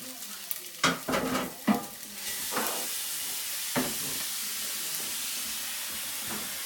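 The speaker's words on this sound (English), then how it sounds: "So now I'm just going to go ahead and put the sausages in here and let them go ahead and cook." Sausages dropped into a hot pan for a Sunday brunch, with a few clacks and stirring scrapes before a steady loud sizzle and hiss settles in and carries on alone.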